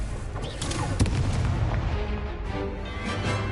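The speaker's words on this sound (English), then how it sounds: "Confringo!" A fiery Confringo explosive spell cast in a Hogwarts wizarding video game, heard as a burst with a sharp hit about a second in, followed by a rumbling crackle that runs steadily to the end, alone without talk.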